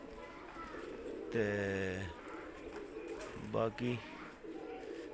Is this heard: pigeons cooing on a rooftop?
yes